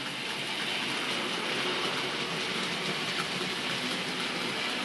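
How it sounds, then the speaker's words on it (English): A Bachmann Dukedog No. 9017 model locomotive runs smoothly at a steady pace while hauling a long freight train, giving a continuous close-up rolling hum and rail rattle throughout. "it's very smooth running straight away on a decent length freight train"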